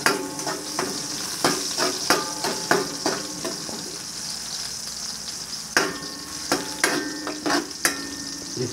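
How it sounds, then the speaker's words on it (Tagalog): Ginger sizzles in hot oil in a pan for a fish sinigang with yellowfin tuna, a steady fry hiss broken by repeated sharp clinks and scrapes of a utensil stirring against the pan, close and clear with no talking. "igisa mo natin itong mga sangkap. Katulad ditong luya."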